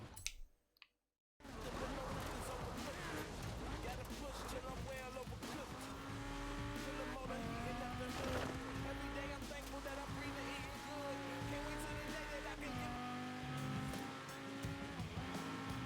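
A Lamborghini Huracan drift car in Forza Horizon 4 revs hard after a short silence, with engine tones rising and shifting and tires squealing along, while someone talks over the continuous loud driving.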